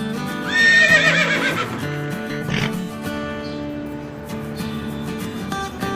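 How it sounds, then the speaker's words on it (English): A cartoon horse lets out a loud, shrill whinny that wavers and fades over about a second, followed by quieter clopping and background music. "Guys, horse, beautiful big size horse,"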